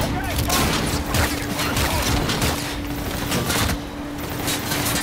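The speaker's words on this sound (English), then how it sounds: "machine gun right up there" Sustained automatic gunfire in the video game Call of Duty: Infinite Warfare, a dense, loud stream of shots with booming impacts, heard over a voice talking.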